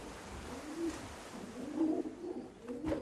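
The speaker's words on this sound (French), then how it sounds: "Les pigeonneaux seront très vite autonomes." Pigeons coo softly nearby, with several low, rolling coos repeating in a loose rhythm over faint background hiss.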